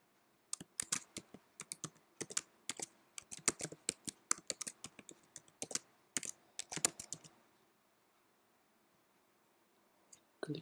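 Quick bursts of typing on a computer keyboard, crisp close key clicks in uneven runs for about seven seconds, then quiet and one last click near the end, with no talk.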